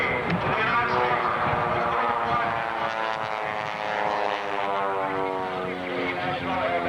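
Eagles aerobatic team propeller planes fly overhead at the 1991 Cleveland Air Show, a loud, steady droning engine roar with shifting pitch as they pass, under an announcer's commentary.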